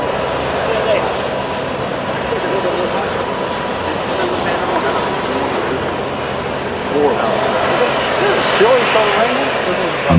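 An A-10 Thunderbolt II attack aircraft's jet engines drone as a loud, steady broadband roar throughout, swelling slightly near the end.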